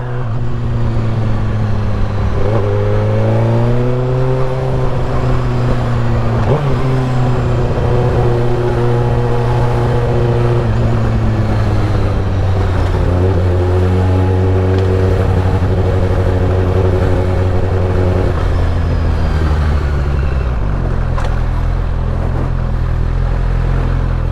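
A supersport motorcycle is ridden at close range, its engine droning loudly and continuously through rising and falling revs, with gear changes marked by sudden shifts in pitch and wind rushing over the ride.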